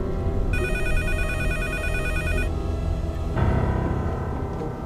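A telephone ringing with a rapid electronic trill for about two seconds over a dense background of music and ambient noise, then stopping.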